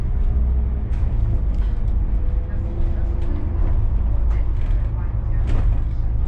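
Interior of an Elektron electric bus on city route 24, a steady low rumble and road drone throughout with occasional rattles, while a voice talks over it.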